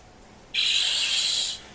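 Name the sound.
toy morpher charge-up sound effect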